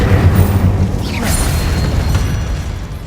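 A burst of spell-casting magic from the Hogwarts Legacy video game, a deep booming blast with a bright rushing swoosh, loud and continuous over a rumbling background.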